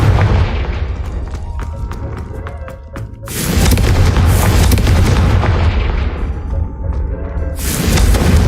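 Deep booming blasts from a Confringo fire spell in the Hogwarts Legacy video game, several heavy explosions with rumbling tails, loud and close, with a short lull between bursts.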